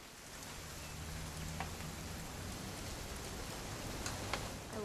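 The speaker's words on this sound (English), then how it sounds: "It's gonna rain the whole weekend, isn't it?" Steady rain in the video game What Remains of Edith Finch, a constant hiss of falling drops and light patter with faint ticking, continuous and evenly loud throughout, no talking.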